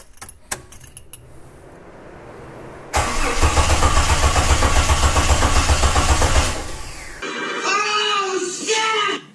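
A Jeep Wrangler YJ engine cranks without starting: a loud, steady, rapid churning for about three and a half seconds, preceded by faint clicks and rustling and followed by a voice talking.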